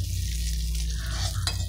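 Fried beetroot and green chillies being stirred in a hot pan, a steady sizzle of oil with soft scraping of the spatula and a brief clink near the end, no voices.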